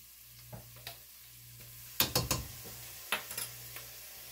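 About a tablespoon of garlic, three cloves, cooking in a pan at a quiet, low level, with a faint background hum broken by a brief cluster of scraping clicks and a few lighter taps.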